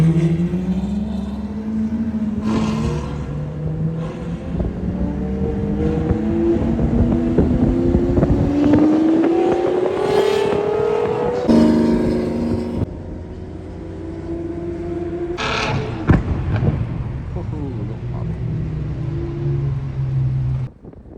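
A loud Lamborghini engine on a drive through Tokyo, heard from inside the car: revs climb and fall in long sweeping pulls with gear changes, the drone steady and close throughout, with wind buffeting and no talk.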